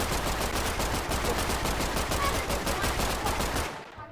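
Heavy machine gun in a Roblox shooter, fired in a long unbroken automatic burst that stays loud and dense for nearly four seconds before cutting off, with no talk over it.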